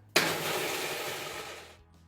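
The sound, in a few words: food processor pureeing black beans and oil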